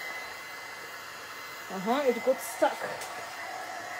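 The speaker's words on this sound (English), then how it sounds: "I'm going to use the heat gun to dry it" A heat gun drying gesso on a frame blows with a constant whooshing hum throughout, while a person speaks briefly over it.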